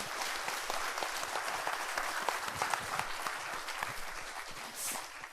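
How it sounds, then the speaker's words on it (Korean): Audience applause at a closing ceremony, a steady dense wash of many hands clapping throughout at moderate level, with no voices over it. "다시 한 번 큰 박수 부탁드리겠습니다"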